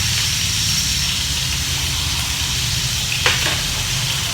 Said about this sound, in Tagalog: Prito ko na para hanggang mamayang gabi.